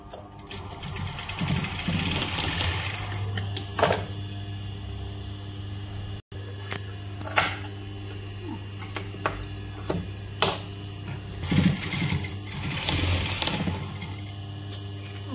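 A sewing machine stitches old saree fabric into a crop top with a steady, close mechanical whir and a low hum, broken by a brief stop and a few clicks partway through.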